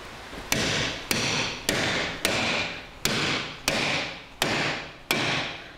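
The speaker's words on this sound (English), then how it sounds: "There we go, bigger hammer." A bigger hammer strikes a stuck part on a Toyota Hilux rear wheel. Eight loud, sharp metallic blows land about every half second, each ringing out briefly, close up with no voices.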